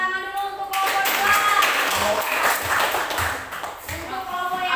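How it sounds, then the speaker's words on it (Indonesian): Classroom students clap together for a group of classmates during a maths lesson, a short burst of mixed hand claps lasting a few seconds between brief spoken moments, fairly close and loud. "kasih tepuk tangan dulu untuk kelompok dua."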